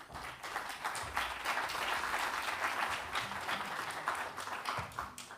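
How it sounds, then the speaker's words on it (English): An audience at a risk management conference applauds steadily, a dense wash of many hands clapping at moderate volume for several seconds. "a round of applause for them."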